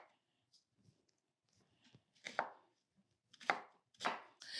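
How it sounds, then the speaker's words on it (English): A knife chops onion roughly on a cutting board for potato salad, a handful of sharp, close thuds that grow louder and quicker toward the end, with quiet rustling between cuts. "Same thing with the onion, just chopping it roughly because it's going into the food processor."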